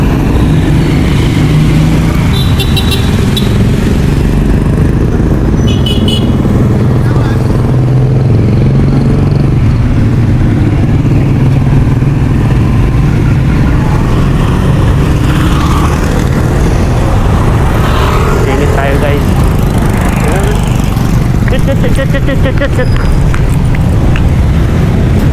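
A motorcycle engine rumbles steadily and loudly at close range, with constant low droning and clattering road noise throughout and no talk.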